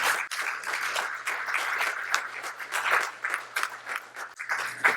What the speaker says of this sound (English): give a round of applause for all of our speakers, whether they're here or not